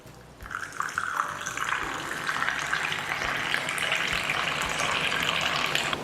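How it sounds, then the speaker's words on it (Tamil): Boiled and cooled milk poured into aval milk: a steady, close liquid pouring and splashing sound that begins abruptly and continues evenly for several seconds. "லாஸ்ட்டாக காய்ச்சி ஆற வச்சுன பால் எடுத்து வச்சுருக்கேன், அதையும் ஊற்றிடலாம்"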